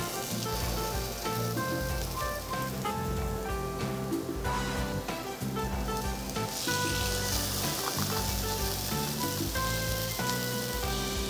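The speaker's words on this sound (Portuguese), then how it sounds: "A frigideira é bem quente, para o hambúrguer ficar bem douradinho" A homemade burger sizzles in a very hot frying pan with a little olive oil, a loud, continuous crackling fry with bright spattering over the whole stretch.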